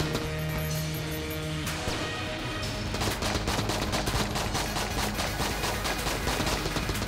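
Rapid gunfire from the Enter the Gungeon video game bursts in dense, fast volleys of shots and impacts, following a brief stretch of louder blasts and tonal effects.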